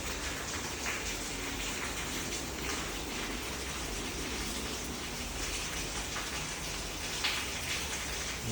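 Steady rain falling outdoors, a continuous even hiss of drops on surfaces with no talk and no distinct individual events throughout.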